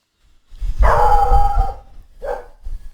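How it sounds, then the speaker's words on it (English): During a Middle-earth tabletop battle game, recorded dogs bark and howl: one long drawn-out howling bark followed by a shorter yelp, fairly loud and clear against a quiet background. "There's Farmer Maggot's dogs in the distance."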